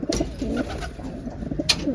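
Soft, low pigeon coos repeat in a gentle rolling rhythm close by, with a brief higher chirp near the end.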